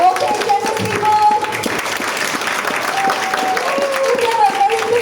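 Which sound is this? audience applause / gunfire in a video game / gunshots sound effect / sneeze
audience applause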